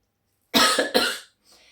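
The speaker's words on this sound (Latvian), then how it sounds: "klepus nāk virsū, es nevarēšu parunāt" One person coughs twice in quick succession, close and fairly loud, followed by a faint breath.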